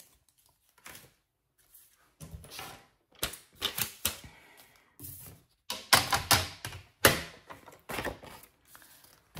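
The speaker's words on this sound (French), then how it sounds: "On va commencer par faire les 2 plis dans notre base unie à l'aide de notre massicot" A paper trimmer scoring folds into a plain card base, a series of sharp close clicks and taps in irregular bursts, some quick runs of clacks, with quiet gaps between.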